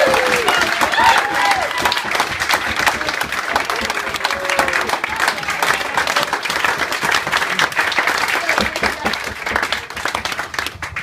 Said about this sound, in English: can we all just get a round of applause?